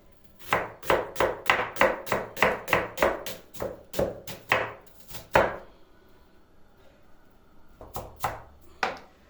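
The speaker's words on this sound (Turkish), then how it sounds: "Üç tane bir büyük baş soğanımı doğradım." A knife chops onions rapidly on a cutting board, a steady run of a dozen crisp strikes, a pause, then a few more chops.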